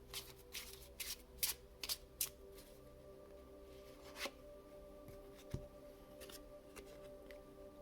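A deck of playing cards is shuffled up close, giving a string of quick papery riffles and flicks that come in bursts, then settle into softer, scattered card taps.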